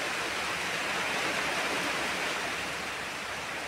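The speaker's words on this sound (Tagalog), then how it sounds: "Ikusog ng uwan mga idol, isugod na kusog." Steady, dense downpour of heavy rain, a continuous loud hissing wash that holds evenly from start to finish with no talking.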